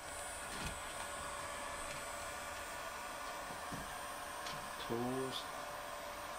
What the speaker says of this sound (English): This is, God, this is really a controlled heat gun.